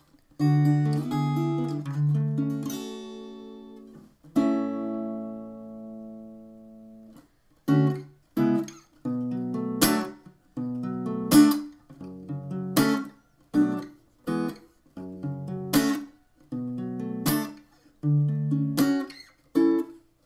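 Acoustic guitar strumming chords, starting with ringing strums then settling into a rhythmic pattern of sharp, repeated strokes, clear and close.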